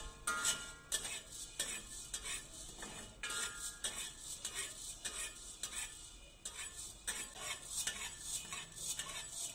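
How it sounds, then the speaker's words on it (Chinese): White peppercorns dry-stir-fried over medium-low heat in a wok give a steady, faint rattling and scraping of spoon or spatula on metal, with crisp repeated clicks of hard grains tumbling, close and without talk. "把胡椒放在锅里，开中小火慢炒"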